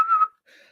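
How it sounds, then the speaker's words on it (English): A person whistles a short, clear note that fades out, followed by a softer breathy whistle, close and alone. "Whistle while you work."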